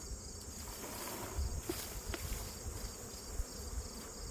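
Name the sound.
honey bee swarm buzzing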